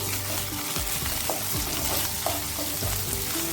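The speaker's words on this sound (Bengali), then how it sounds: "আদা কুচিটাও সবজির সঙ্গে ভেজে নিচ্ছি।" Chopped ginger fries with winter vegetables in a pan for an oats khichuri, giving a steady close sizzle with a few stirring scrapes and no talk.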